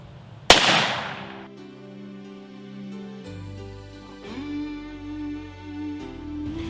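A single sharp handgun shot fired while hunting outdoors from a position braced against a tree, a loud crack followed by a ringing, fading tail with no talking.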